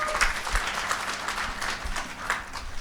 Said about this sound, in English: give another massive round of applause for our incredible panelists as well